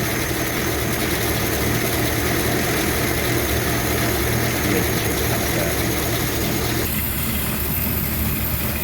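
A 1954 Ford Popular 103E engine idles warm after the choke is pushed in, giving a steady, loud mechanical chug with a faint ticking, ratchet-like rattle. The tone stays even throughout, with a slight shift near the end.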